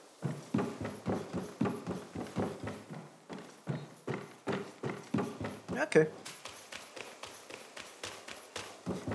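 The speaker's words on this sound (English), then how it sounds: "You can even hear your own footsteps on the wooden floor." Footsteps on a wooden floor in the video game Black Myth: Wukong, a steady rhythmic run of close, thudding steps with a brief sharp clatter midway, under occasional talk.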